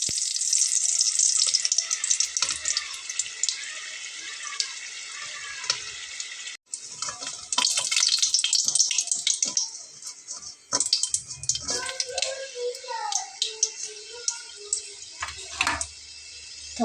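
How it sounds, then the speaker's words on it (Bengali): Potato snacks frying in hot oil, a steady bright sizzle with bursts of crackling and occasional stirring or lifting sounds, close and continuous with no talking. "এখন আমি এগুলোকে কিন্তু ভেজে ভেজে তুলে নেব"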